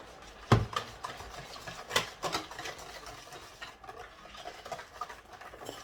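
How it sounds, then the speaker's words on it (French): Food is stirred in a pan with a utensil, making repeated close scraping and rubbing strokes with a few louder knocks at the start, fading to softer scrapes. "Et là, je mélange encore"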